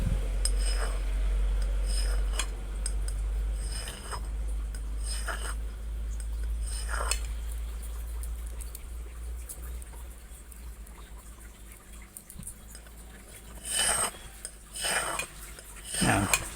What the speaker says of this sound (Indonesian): Kita coba asah pakai piring ya